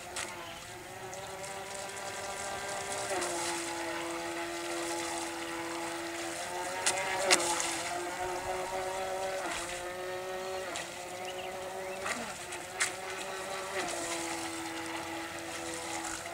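An RC seaplane's electric motor drones at full throttle outdoors, a steady whining buzz that shifts pitch several times as the plane passes, moderately distant, with faint wind and brief bumps.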